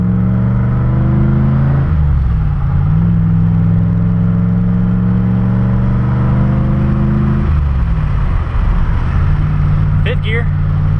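A turbocharged LSX-swapped Mazda RX-7 pulls hard under acceleration, its loud V8 drone rising, then dipping with gear changes near two and eight seconds before climbing again into fifth gear, heard from inside the cabin.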